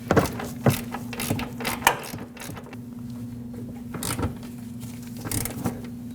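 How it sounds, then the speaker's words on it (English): A bolt on the upper control arm of a 2005-2021 Nissan Frontier 2WD being tightened by hand: a run of close ratcheting clicks and metallic clatter, busiest early and again near the end, over a steady low hum, with no talking. "we can tighten up that second bolt"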